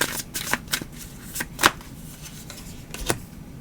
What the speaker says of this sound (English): it's weird how I shuffle these cards